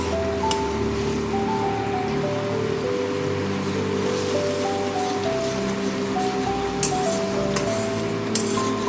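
Spice paste for pabda fish jhal frying steadily in hot oil, a continuous dense sizzle and crackle like rain on a surface, with a low tonal hum underneath and no voices.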